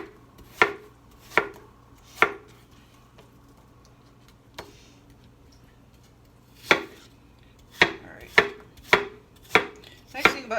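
A knife chops food on a cutting board with a dozen sharp, distinct knocks, three spaced ones at first, a long gap with faint taps, then a quicker run of chops near the end, with no talking.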